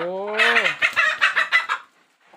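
Several chickens clucking close by around a rural field hut, a rising call followed by a run of short rhythmic clucks, then quiet.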